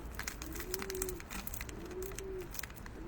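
Pigeons coo in two drawn-out low calls amid a busy, noisy background, moderately close.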